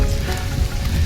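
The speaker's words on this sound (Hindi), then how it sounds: "तो बारिश ज़्यादा हो रही है" Steady rain falling in a forest in the Kumaon hills at dusk, an even close hiss of drops on leaves and ground with no other sound.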